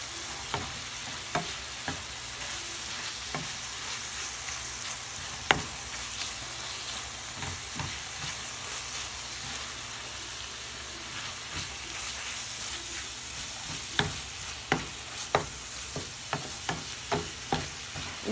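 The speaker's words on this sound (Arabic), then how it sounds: "وكنحركو كندمجو الخضره ديالنا مع العطريه" Vegetables with onion, peppers and spices stirred and frying in a pan for a chicken chausson filling, a steady close sizzle broken by irregular scraping and clinking stirring strokes, with no talking.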